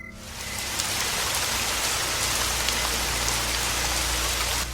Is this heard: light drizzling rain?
yes